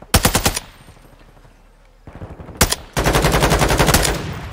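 TAQ V rifle fire in the video game Modern Warfare 2: rapid automatic bursts, loud and close, a short burst, a pause, a single crack, then a long sustained stream of shots.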